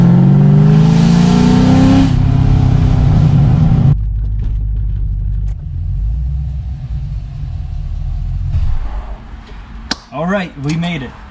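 A salvage C6 Corvette on its first drive pulls hard with a loud rising engine roar for about four seconds, then lifts off into a lower rumble of cruising, with a voice speaking loudly near the end.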